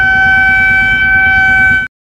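A loud, steady houseboat siren, used as a horn, holds one pitch for almost two seconds, then cuts off abruptly, with a throbbing engine rumble beneath, on Tanguar Haor.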